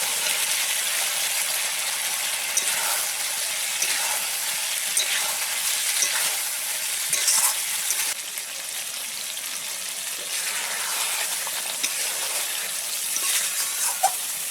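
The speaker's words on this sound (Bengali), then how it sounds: "এবারে আমি চিংড়ি মাছগুলো মশলাতে দিয়ে দেবো।" Prawns frying in a pan of cooked-down tomato and spice paste, with a steady loud sizzle and occasional stirring scrapes throughout, no voices.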